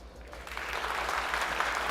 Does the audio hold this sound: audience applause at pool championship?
yes